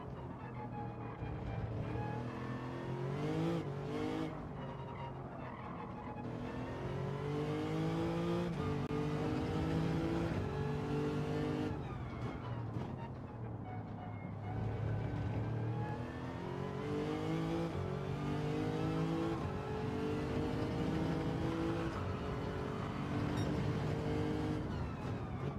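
A 2017 Lexus RC F GT3 race car engine in the Gran Turismo 7 video game revs up and down repeatedly, with rising pitch sweeps broken by gear shifts, loud and sustained without talk.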